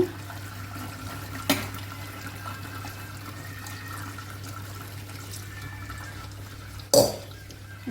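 Water runs and pours steadily from a tap into a sink while draining cooked noodles, with two sharp clanks of a pot or strainer against metal.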